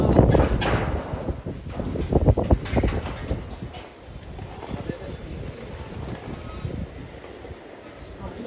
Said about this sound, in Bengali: এই হচ্ছে রাতের ঝড়।